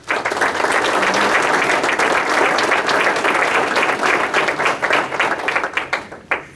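Loud, dense applause from an audience at a county State of the County address, a sustained roar of clapping that breaks into scattered individual claps as it dies away at the end.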